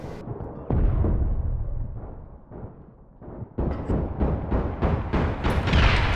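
Grenade explosions in the video game APB Reloaded, a heavy booming blast that rolls and decays, followed by a second loud burst with crackling debris, close and forceful, no talk.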